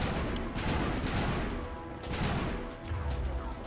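Gunfire in the video game Mass Effect: Legendary Edition rattles in dense, continuous bursts, loud and close, with booming low rumbles underneath and no talking over it.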